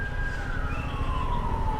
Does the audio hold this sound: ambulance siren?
yes